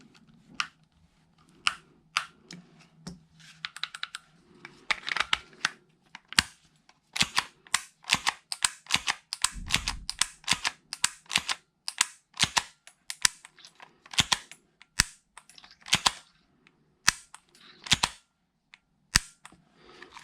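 Dry, sharp clicks from an airsoft AAP-01 replica pistol being test-fired with a COWCOW trigger installed, a long irregular series of single shots and quick bursts, close and crisp with quiet gaps between them.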